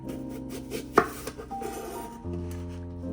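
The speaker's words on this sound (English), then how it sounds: "you're gonna chop them up into cubes" Knife chopping apples into cubes on a board, a few close, crisp cuts with one sharp thunk near the middle, no talking.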